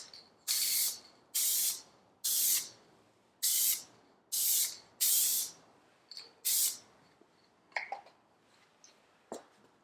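Seven short, loud aerosol spray bursts coat a plastic car panel on a Honda Accord, evenly spaced, each lasting about half a second, followed by a few faint clicks and taps with no voices.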